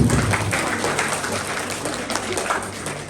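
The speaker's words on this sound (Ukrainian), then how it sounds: "Оплесками, будь ласка" Applause from an audience at a museum awards ceremony, a dense burst of many hands clapping that holds steady for a few seconds, with faint voices underneath.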